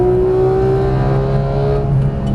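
A Porsche GT3 on a racetrack pulls hard out of a corner, its engine note loud, close and steady, rising slightly as it builds speed.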